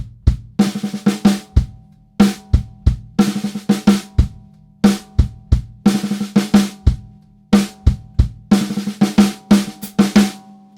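Unmuffled snare drum ringing open with a sustained tone, laying down a steady groove of crisp, repeated strokes with ghosted notes between accents, close and loud, with no voices.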